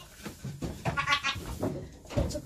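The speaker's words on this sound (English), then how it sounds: "Well, she's a pretty big goat," A large female goat bleating in several loud, close, wavering calls one after another.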